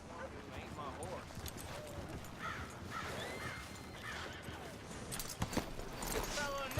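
Horse hooves clip-clop at a steady, moderate pace in the video game Red Dead Redemption 2. The rhythmic footfalls sound fairly close but quiet, with crows cawing around them and a few sharper knocks near the end.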